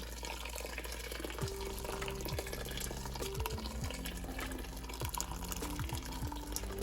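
Hot water pours and splashes steadily into a pot of balbacua, a continuous liquid rush with a few faint clinks, no talking.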